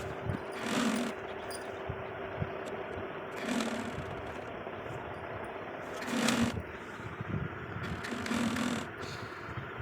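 A sewing machine stitches the edges of frock sleeves in a low, faint mechanical whir with a steady hum. Four stronger bursts of running come at roughly even intervals, and no one speaks.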